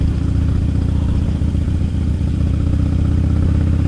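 A Harley-Davidson Sportster motorcycle on a ride, its engine a loud, steady low rumble with continuous wind and road noise and no pause.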